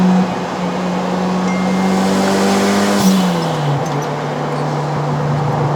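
A 1996 Mitsubishi Lancer Evolution VI engine holds a high, steady rev from inside the car, its drone dipping slightly partway through and then settling at a constant pitch.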